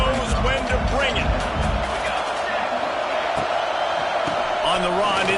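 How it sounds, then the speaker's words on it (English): Crowd noise fills a USC Trojans football stadium, a dense, steady roar that swells with whoops and shouts while the team nears the red zone. "This crowd knows when to bring it."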